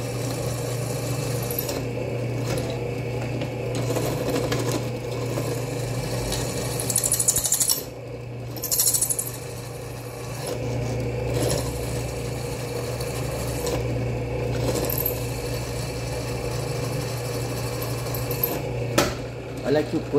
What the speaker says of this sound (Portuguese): Porque furar uma lima, vocês sabem, não é fácil não.